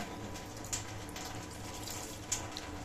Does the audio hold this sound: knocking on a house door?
no